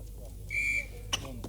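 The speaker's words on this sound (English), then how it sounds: "So the whistle goes" A referee's whistle gives one short, clear blast at a 1985 sports competition in a gym in Galway, Ireland, heard over a low background hum and followed by a faint click.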